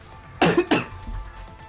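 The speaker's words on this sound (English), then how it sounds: "I'm so sorry for all the coughing" A short double cough, close and fairly loud, from someone playing Danganronpa V3, followed by a faint low rumble of background sound.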